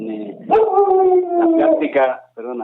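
A pet dog howls close by in a long, wavering, rising and falling wail, ending in a brief yip while someone speaks over it.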